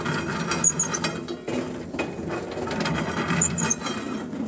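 Turning the hand crank of an antique corn sheller gives a rapid wooden-and-metal ratcheting clatter from the gears. The mechanism rattles close and continuously with a brief hitch partway through, and a couple of faint squeaks sit over the grinding.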